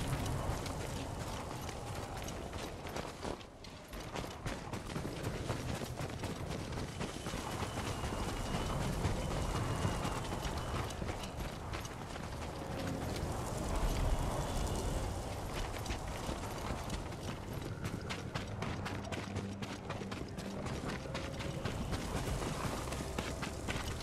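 Horses galloping in the video game Ghost of Tsushima, a fast continuous drumming of hooves over rough ground with rushing movement noise, sustained and fairly loud throughout.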